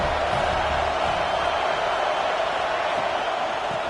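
Steady roar of a large football stadium crowd in a game against Notre Dame, a dense, continuous wash of voices at even loudness with no distinct individual sounds.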